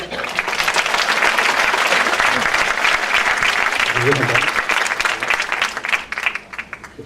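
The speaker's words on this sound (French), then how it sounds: "On peut l'applaudir." Audience applause greets a cancer specialist introduced for a talk on nutrition and cancer prevention in Montpellier; dense, sustained clapping fills the hall and thins out toward the end.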